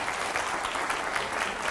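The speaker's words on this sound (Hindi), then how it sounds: "पहले जोरदार तालियां हो जाएं" Loud audience applause in a television debate studio, a brief dense burst of clapping from many hands, continuous and without talk.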